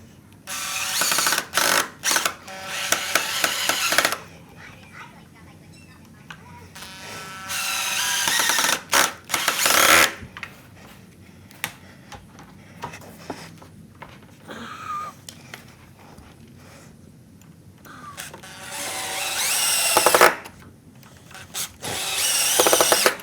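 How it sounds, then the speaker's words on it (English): A power drill drives screws into pre-drilled holes in wooden farmhouse table boards, with several loud close whirring bursts of varying length, some stuttering, separated by quieter handling noise. "as I drive the screw into the pre-drilled hole."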